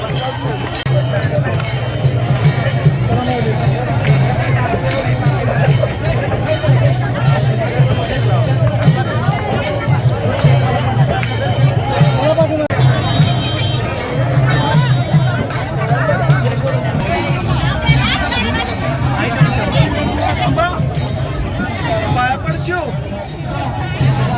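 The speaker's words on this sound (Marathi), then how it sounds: "खूप मोठ्या प्रमाणामध्ये आपल्याला इथे गर्दी पाहायला मिळते" Pilgrims throng the Sant Tukaram Maharaj palkhi procession, their constant murmur and chatter forming an even, crowded wash of voices with faint clinks, while someone talks over the din.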